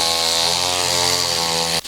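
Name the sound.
lawn mower cutting grass on esplanade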